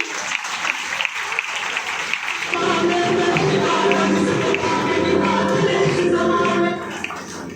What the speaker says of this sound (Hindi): मैं चाहूंगी उनके लिए भी जोरदार तालियां होनी चाहिए